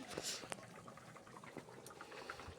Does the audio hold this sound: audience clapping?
no